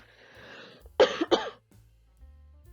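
Two sharp, close coughs in quick succession break a quiet room, followed by low background hum.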